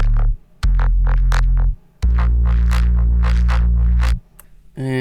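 Drum and bass main bass synth layer band-passed to drop the sub: loud, thick sustained bass notes in long held blocks with bright buzzing upper harmonics and short rhythmic chops, punctuated by brief gaps.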